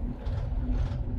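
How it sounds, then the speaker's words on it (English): An old salvage sailboat's diesel engine keeps running on after shutdown, a steady, low, close rumble that continues on its own without a break. "dieseling. And that's what that sound is called."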